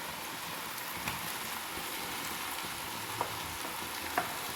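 Mixed vegetables for pulao fry in a pot with a steady, even sizzle, broken by a few faint clicks of stirring or utensil contact.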